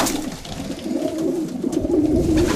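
Low, soft pigeon cooing repeats steadily, close by, from a breeding loft aviary, over a faint rustling background with no talking.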